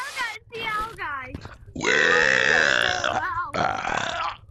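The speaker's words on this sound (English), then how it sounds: "Who's burping?" A person lets out a long, loud, guttural burp at close range, sustained for over a second, with other voices chatting and reacting before and after it.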